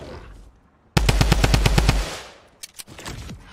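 Rapid gunfire in the video game Fortnite, a loud close burst of about nine evenly spaced shots lasting around one second, followed by a few scattered quieter pops.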